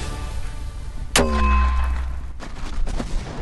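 A single loud, sharp mortar firing boom with a ringing metallic tail, standing out against faint background noise, followed by quieter rumbling.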